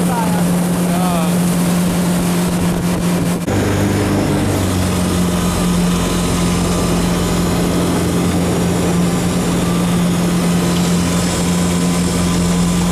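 A jet boat's engine runs on the Kiiminkijoki river near Utajärvi, a loud, steady droning hum that holds close throughout, with a brief shift in tone early on.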